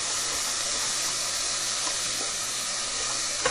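Chopped vegetables for a Mexican meatball soup sizzle steadily in a hot pot as they caramelize, a continuous loud frying hiss with faint stirring, no talk.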